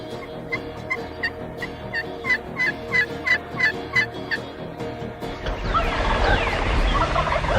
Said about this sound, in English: I can hear these birds gobbling around us